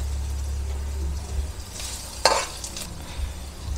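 Ginger sautéing in a pan for snail tinola, a steady low sizzle with a brief clack of stirring midway, alone without talk.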